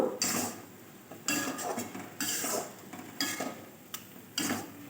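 Banana flower is fried with chili in a pan and stirred in repeated bursts, about five scraping strokes of the spoon against the pan over a light sizzle, close and clear.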